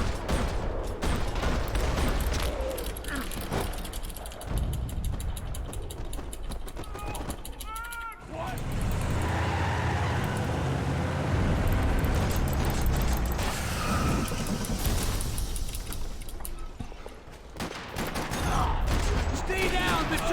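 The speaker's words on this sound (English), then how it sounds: "Another parking lot rattling with gunfire." Gunfire rattles through a parking lot in the Max Payne 3 video game. Dense, rapid bursts of shots and mechanical clatter run almost continuously, with a brief lull midway and some game voices mixed in.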